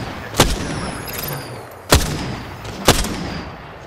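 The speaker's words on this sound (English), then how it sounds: "Shooting." Three sharp gunshots from the battle royale shooter Apex Legends, spaced irregularly over a steady background hum, each a loud, crisp report with a short tail.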